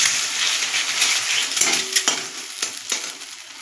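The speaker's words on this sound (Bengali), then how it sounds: "দুটো ডিম ফাটিয়ে নিয়েছি, এবার দিয়ে দেবো নুন দিয়ে আমি এটা ঝুড়ো ঝুড়ো করে নেবো।" Eggs beaten with salt in a wok with hot oil, giving a steady close sizzle with a few sharp clicks and scrapes of a utensil against the pan, and no talk.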